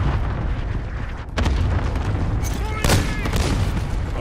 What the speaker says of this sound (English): Cluster strike ready for launch.